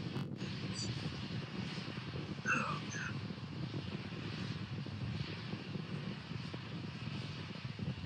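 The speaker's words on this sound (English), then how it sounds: "That thing is running off of two engines." A SpaceX Starship rocket running on two engines during a high-altitude test flight gives a faint, steady, distant roar that holds evenly throughout.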